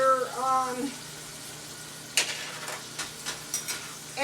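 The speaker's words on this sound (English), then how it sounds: "So if you put your jalapenos in and" Soft sizzling of jalapenos and red onions frying in a pan with a few sharp stirring scrapes and clinks, faint and close, after a short bit of talking.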